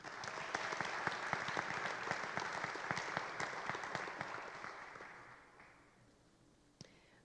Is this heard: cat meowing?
no